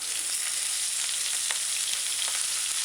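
Diced onions and scallion hit hot oil in a pot with seasoning for a chicken coconut stew, giving a close, even hiss of sizzling with faint crackles.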